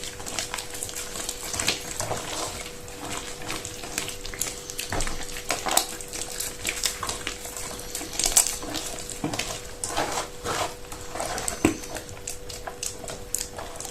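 Tsoureki dough ingredients, including four large eggs and a pinch of salt, being mixed in a bowl, giving a steady close-up stirring and clattering texture with irregular knocks throughout.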